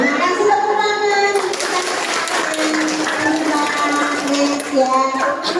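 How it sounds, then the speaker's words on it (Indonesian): Applause and clapping from an audience at a parenting education session, a dense, steady patter that runs throughout, with children's voices and chatter mixed in underneath. "Kasih tepuk tangan."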